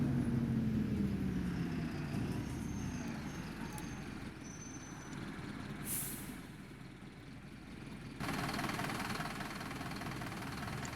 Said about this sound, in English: The idling on this is just spot on.